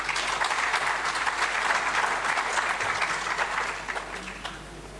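Applause at the AfWASA Congress morning session follows a keynote talk on public sector leadership in Africa, a full, dense roar of many hands clapping that holds steady, then thins and fades slightly toward the end.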